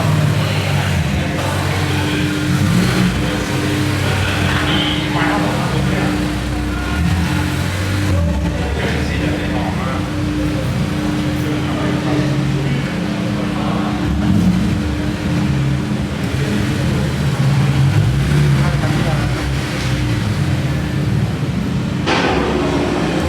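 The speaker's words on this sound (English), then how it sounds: "got more Skylines coming in, and also S2000'S." Honda S2000s and Nissan Skylines roll into a Japanese underground car meet, engines rumbling and revving steadily nearby for the whole stretch with a constant low drone.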